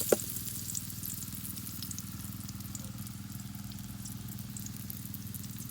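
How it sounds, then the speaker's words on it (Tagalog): Garlic and onion frying in a pan for pork caldereta, a steady close sizzle and crackle that holds evenly throughout, with a faint scrape at the start. "ilalagay ko na rin yung sibuyas."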